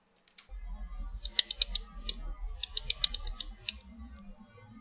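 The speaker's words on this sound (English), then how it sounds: "That sounds like a typewriter." Quick, uneven mechanical clacks and taps, like typewriter keys striking, with a low rumble underneath and one sharper clack near the start.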